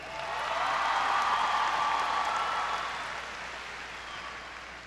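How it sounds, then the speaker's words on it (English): Crowd at a high school graduation ceremony breaking into sustained applause that swells to a loud, dense roar of clapping and then slowly tapers off. "Can I get a round of applause for these amazing students here?"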